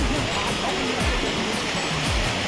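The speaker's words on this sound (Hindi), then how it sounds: "मेरे छोटे से झरना बने हैं, जेमे लोगन मन हा स्नान करते" A small waterfall at Nrusinghanath temple in Odisha, where people bathe before visiting the shrine: steady, close rushing water with a constant broadband hiss. No speech is heard.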